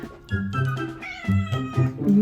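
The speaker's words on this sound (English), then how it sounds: "Meow." A cat meows several times in a row, each call a drawn-out, tonal, slightly whiny cry, close to the microphone and loud, with short gaps between calls and no talking.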